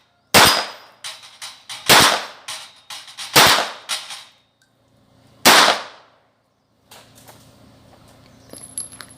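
Taurus 856 .38 Special revolver fired with live ammunition: four loud, sharp shots spaced one to two seconds apart, each with a short ringing decay, followed by quieter clicks and handling noises.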